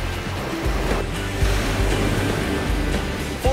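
Ocean waves breaking and surging along the Pacific coast at Malibu, California, a steady loud roar of surf with low rumbling swells and a little wind noise, no voices.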